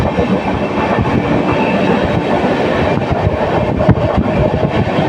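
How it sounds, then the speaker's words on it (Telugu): A Guntur to Ernakulam train rolls steadily along the tracks, a loud continuous rumble with rhythmic clattering of wheels and no voices. "ట్రైన్ ఊరి బయటేమో మామూలుగా వస్తుంది, స్టేషన్లోకి వస్తే స్పీడ్ వెళ్తుంది"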